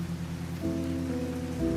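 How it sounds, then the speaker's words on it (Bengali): Rain patters steadily by a window as a continuous soft hiss of drops, with low sustained musical tones underneath and no voice. "বৃষ্টি পড়ছে টুপটাপ জানালার কাছে জল জমে নিচে নামছে ধীরে ধীরে"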